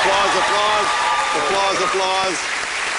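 A studio audience claps in a continuous, even wash at a comedy show, while voices talk over the applause throughout.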